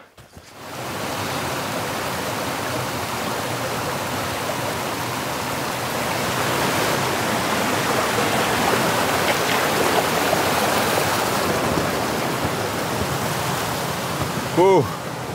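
River water rushing through a forest in heavy rain, a steady, loud broadband roar of flowing water that holds throughout, with a brief splash or knock near the end.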